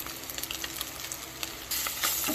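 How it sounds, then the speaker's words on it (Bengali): Fish frying in oil over medium heat gives a steady, dense crackling sizzle close up with scattered spits and pops. It swells louder near the end, and nobody talks. "আমি প্রায় পনেরো বিশ মিনিটের মতো মিডিয়াম হিটে মাছটা ভেজে নেব"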